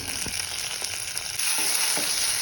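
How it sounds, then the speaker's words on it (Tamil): Chopped onions and tomatoes sauté in a pan for Chettinad chicken masala, giving a loud, steady sizzle close by, broken by a few spoon scrapes and stirring knocks, with no talking. "வெங்காயம் தக்காளியும் கொஞ்சம் நல்லா வதங்கணும்."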